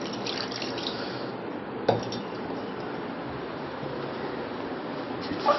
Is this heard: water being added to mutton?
yes